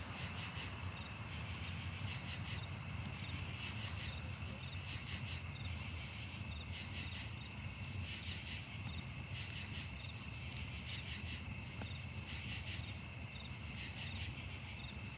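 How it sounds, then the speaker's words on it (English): Crickets chirp steadily in a continuous, pulsing chorus, with a soft outdoor hum underneath and no talking. "Can you hear the crickets if I don't talk?"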